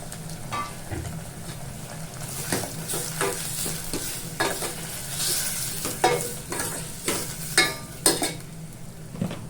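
Tomatoes fry with softened onions in a pan, a soft steady sizzle broken by repeated sharp scraping strokes of a spoon stirring, growing more pronounced toward the end.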